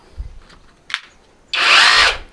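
A few light clicks and knocks, then an OSUKA OSRH-26 brushless cordless rotary hammer drill starts up loudly and runs with a harsh, buzzing whir for about a second.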